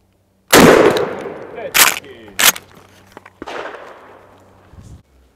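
A Mossberg 835 Ulti-Mag 12 gauge tactical turkey shotgun fires outdoors at a patterning target, three loud close blasts spaced about a second apart and a fourth softer report, each with a long echoing tail.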